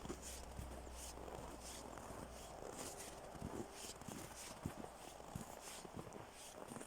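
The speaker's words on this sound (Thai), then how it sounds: "เสียงก๊อบแก๊บก๊อบแก๊บนี่เป็นเสียงเท้า" Footsteps crunch steadily through snow outdoors on a sunny, cold day of minus six degrees, a continuous near series of crisp steps with no talking.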